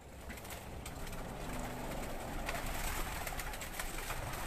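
Breeding pigeons coo faintly on a rooftop in Mansoorabad, soft low murmurs nearly buried in steady outdoor hiss and background noise.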